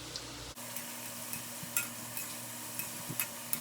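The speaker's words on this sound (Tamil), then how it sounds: "நம்ம உருட்டி வச்சுக்கிற கவ்வலெல்லாம் எண்ணெயில் போட்டு பொரிச்சு எடுத்துக்கலாம்." Wheat flour gavvalu, small sweet shells, deep-frying in hot oil: a steady, close sizzle with faint bubbling crackle and a few soft ladle taps, no talk.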